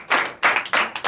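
A congregation at a Sunday church service claps in three quick, loud bursts of hand claps, close and without voices, over about a second.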